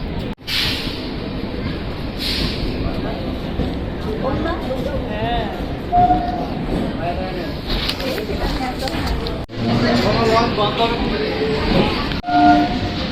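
A local train passes at Bibadibag station in Kolkata, its rumble and rattling wagons rolling steadily nearby with a couple of sharp clunks, while people talk over it.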